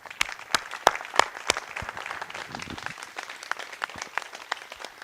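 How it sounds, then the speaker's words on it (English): Applause from an awards ceremony audience: a steady patter of many hands clapping in a room, with sharp individual claps standing out, lasting throughout at moderate loudness. "please give them a hand of applause."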